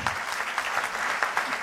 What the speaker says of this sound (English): Claudio de Vincenti, que vous pouvez applaudir.